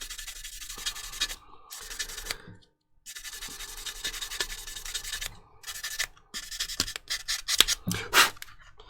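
Fine 1200-grit sandpaper rubbing over a Warhammer miniature, close, quiet scratchy strokes in irregular bursts separated by short pauses.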